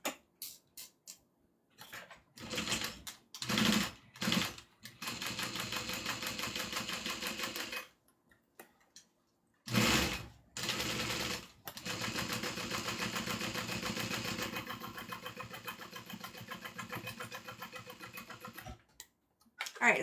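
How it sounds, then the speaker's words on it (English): A sewing machine top stitches around a bag zipper in bursts, with short runs of rapid stitching and then longer continuous passes, separated by brief pauses. "now what we're going to do is do a top stitch all the way around the zipper"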